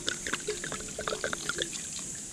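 Water is poured into a camp stew pot of Spam and Italian soup mix, a close, bubbling trickle with small splashes and gurgles over a quiet outdoor background.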